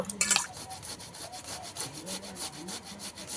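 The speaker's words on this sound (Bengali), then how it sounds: "এখানে টমেটোটাও ঘষে নেব একইভাবে টমেটার ওপরের যে শক্ত খোসাটা ফেলে দেব" A tomato is rubbed back and forth on a grater so the tough skin stays behind, making a steady rasping scrape in repeated close strokes, with a sharper rattle at the start and no talk.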